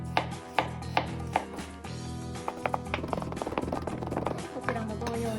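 A kitchen knife mincing ginger and garlic on a cutting board, sharp taps at first, then a quick run of rapid chops, close and clear over a faint background hum.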